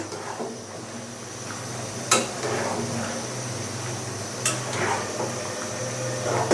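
Beef curry simmering in a pot gets a stir after cloves are added, with a soft continuous bubbling bed and two sharp metallic clinks of a utensil against the pot spaced a couple of seconds apart.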